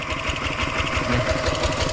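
A farm tractor engine chugs close by with a steady, loud, rhythmic low thumping throughout, like a running single-cylinder motor.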